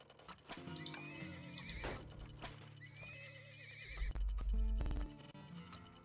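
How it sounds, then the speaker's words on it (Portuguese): Horses in the video game Turmoil neigh repeatedly with whinnying calls while hooves clip-clop, loud and close over a busy game soundtrack, ending in a heavy low rumble. "É muito cavalo pra uma pessoa só."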